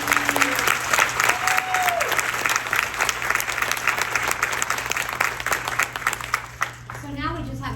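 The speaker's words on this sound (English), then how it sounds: "Another round of applause." Sustained applause from a ballroom crowd at a women in supply chain and logistics award event, loud and continuous, with a few voices and a cheer rising near the end as the clapping tapers.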